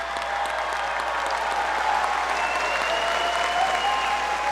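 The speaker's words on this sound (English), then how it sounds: "Let's give a round of applause to the Master of Public Administration graduates" Sustained applause from a large commencement audience celebrating Master of Public Administration graduates at the USC Price 2019 ceremony, a steady even wash of clapping with faint crowd murmur throughout.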